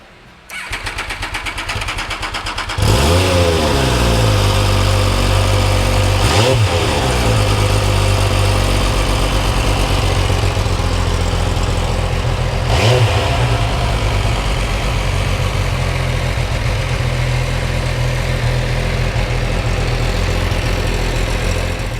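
A Himalaya motorcycle engine idles steadily up close, then starts a deeper, louder idle with two brief throttle blips along the way.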